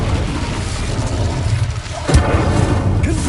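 Incendio fire spell cast in Hogwarts Legacy on PS5, a steady rumbling whoosh of flame with a sharper burst about two-thirds through, loud and continuous with no talk.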